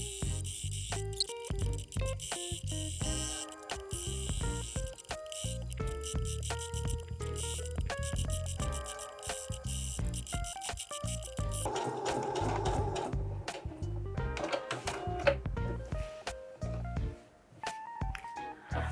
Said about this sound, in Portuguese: costuramos aqui toda a volta, com muito cuidado, fazendo todas as curvinhas